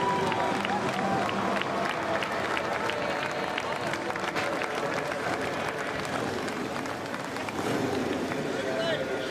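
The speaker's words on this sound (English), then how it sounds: "Getting a round of applause from the fans here inside the U.S. Bank Stadium." A stadium crowd at U.S. Bank Stadium applauds during X Games Harley-Davidson Hooligan motorcycle racing, producing loud, continuous clapping and crowd roar that fills the whole stretch.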